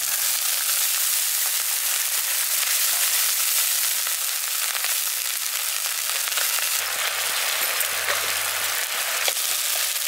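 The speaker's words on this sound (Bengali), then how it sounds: "আমি অল্প একটু জল দিয়ে মশলাটা কষিয়ে নিচ্ছি।" Spice masala sizzles steadily in a pan with a little water, a close, constant hiss of frying with faint stirring scrapes and a low hum near the end.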